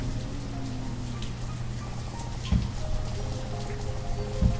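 Rain falls in the PC village-building game Banished, a steady wash of drops with a couple of brief pattering bursts, alone and fairly loud.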